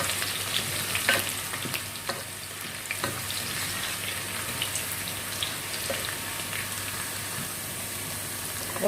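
Onions and garlic frying in a pan for egusi soup, a steady dense sizzle and crackle throughout with scattered pops and occasional soft stirring scrapes, close by.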